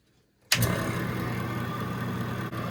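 Sun 400 distributor test machine spins an Oldsmobile HEI distributor in left-hand drive mode, starting abruptly after a moment of quiet and then running as a steady, close motor whir with a faint rhythmic ticking.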